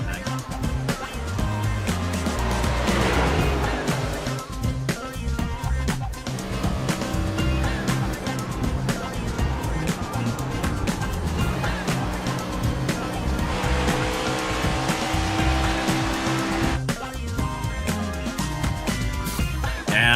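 A race car laps Indianapolis Motor Speedway in a racing video game, engine droning continuously with shifting pitch and tire squeal, while a commentator talks over it throughout.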